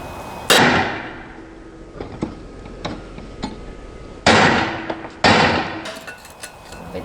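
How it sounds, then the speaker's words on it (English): Sharp metallic whacks strike a John Deere lawnmower blade being pried up on a Briggs-powered mower, with several loud separate impacts ringing briefly, plus smaller taps between them. "And while you're prying up, you give her a good whack."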